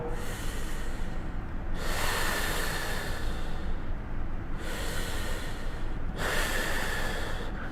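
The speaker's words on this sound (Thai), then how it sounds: "หายใจเข้าแล้วหายใจออกให้ยาวๆ" Slow, deep breaths in and out during a back-pain floor exercise, each long hissing inhale and exhale close to the mic, repeating in a steady rhythm over a constant background hiss.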